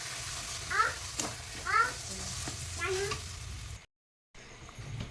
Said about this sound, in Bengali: এবার এই মশলার সাথে আলু ভালোভাবে মিশিয়ে নেব।